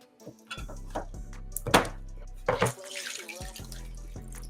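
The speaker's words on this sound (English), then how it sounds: "Yeah, I'm gonna drain them things because I don't like that." Syrup draining from canned sweet potatoes into a sink, an intermittent splashing pour with brief gurgles and knocks, over a low humming drone.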